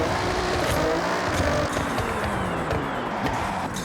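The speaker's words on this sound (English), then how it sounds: "So I'm just gonna bang off the rev limiter." A car engine in the Forza Horizon racing game sits on its rev limiter, a steady buzzing drone chopped by the limiter, loud and continuous with no talking over it.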